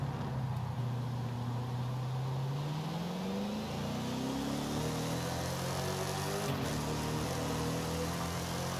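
Engine and exhaust of a Ford Mustang Cobra with its original exhaust in Forza Horizon 5, a steady droning rev that climbs in pitch and holds high and fairly loud throughout, with no talking.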